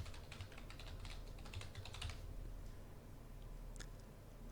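Quick bursts of keystrokes on a computer keyboard as a page title is typed, a steady clicking flurry that pauses, then a couple of isolated taps near the end, close and fairly quiet.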